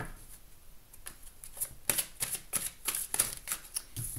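A tarot deck being cut and shuffled by hand, a close, quiet run of rapid papery flicks and riffles that grows busier toward the end, with no voices.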